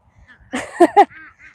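Farm geese give two loud, nasal honks close by in quick succession, preceded by softer rustling and followed by faint quieter calls.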